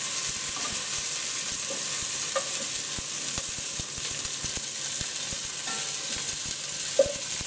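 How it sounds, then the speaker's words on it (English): Pre-cooked meatballs sizzle steadily in a hot pan, a constant close hiss with a few scattered light taps and pops from stirring, no talking. "we'll heat the meatballs up in here a little bit"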